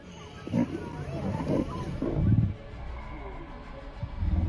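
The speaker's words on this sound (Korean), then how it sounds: "이 영상에는 마사이마라에서 수컷 표범 한 마리가 사자 무리의 영역 안에 들어가 공격당하는 장면이 나옵니다" Lions of a pride in the Maasai Mara attacking a male leopard, with several deep growling roars in bursts over the first few seconds, then quieter snarling and rumbling close by.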